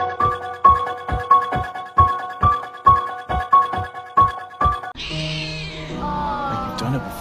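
A cat meows in a steady series of about ten short, evenly spaced calls, fairly close and clear, before the sound shifts to a different, noisier passage near the end.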